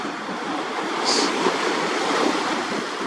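Choppy sea waves roll in and break in a steady, broad wash of surf, with wind rushing across the microphone and no voices.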